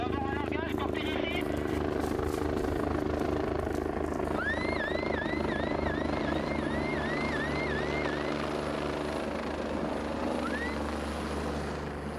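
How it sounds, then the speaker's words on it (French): Helicopter flying overhead, a steady mid-distance rotor drone mixed with other background noise, while a wailing siren-like sweep repeats partway through. People talk quietly beneath. "Je ne sais pas si c'est lui ou un autre hélico"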